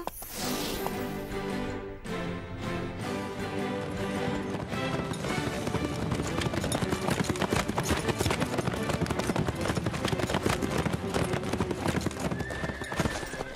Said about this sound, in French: On va faire galoper les chevaux.